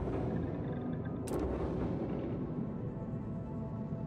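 A laser weapon fires once in the Starfield video game, a sharp, loud blast over a steady low rumble of game ambience.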